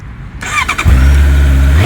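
A 2024 Honda CBR650R motorcycle with a 2-into-1 exhaust cranks with a short starter whir, then its engine catches and settles into a loud, steady idle close by.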